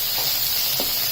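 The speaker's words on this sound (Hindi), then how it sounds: "ये देखिए इसी में मैं टोमेटोज डाल रही हूँ। इसको अच्छे से मिक्स करते हैं।" Tomatoes hit a hot pan and get mixed in, giving a steady, loud sizzle with faint stirring scrapes, close and continuous with no talk.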